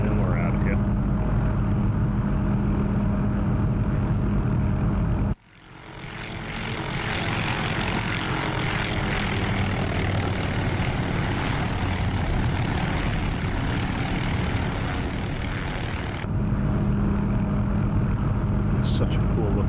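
A loud, steady engine drone with rotor-like throb from an OH-6 Cayuse helicopter in the DCS flight simulator fills most of the clip, cutting in abruptly after a few seconds of lower rumble and continuing without pause.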